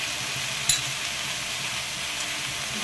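Ingredients being gently stirred in a cooking pan for ridge gourd jolbora, with a steady sizzling hiss and a brief clink of a utensil against the pan early on.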